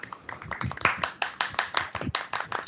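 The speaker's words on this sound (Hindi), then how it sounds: "एक बार जोरदार तालियों से उनका स्वागत कीजिए" A school assembly audience at Venkateshwar International School on Hindi Diwas claps loudly to welcome the principal, with many hands beating fast and unevenly in a close, lively burst that carries on without any speech.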